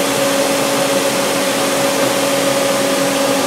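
Spindle of a DMG Mori Sprint 42/8 linear CNC Swiss lathe running at 4,000 RPM, a smooth, constant hum with a steady whine over an airy hiss and no change in pitch.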